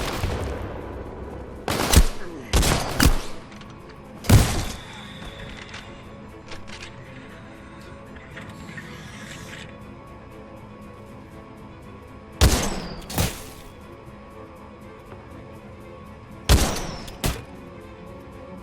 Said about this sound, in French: Ok, ça tire 2 balles.